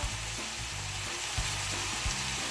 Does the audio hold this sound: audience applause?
no